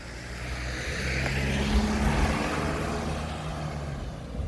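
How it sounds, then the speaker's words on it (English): Lorry passing on a road, a low engine rumble and tire roar swelling to a peak mid-way and fading again, heard from the roadside with wind-like hiss and no speech. "there's a lorry coming now"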